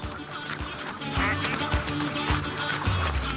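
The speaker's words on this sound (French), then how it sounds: "les canards ont grandi" A dense chorus of two-week-old ducklings quacking close by on a French farm, many overlapping calls over steady farmyard noise.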